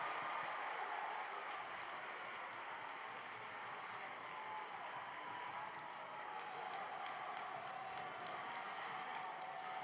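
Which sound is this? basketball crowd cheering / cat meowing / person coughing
basketball crowd cheering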